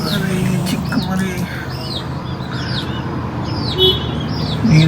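Young chicken chicks peep in repeated high, thin chirps against a steady background hum, with the chirps coming in a loose, uneven series.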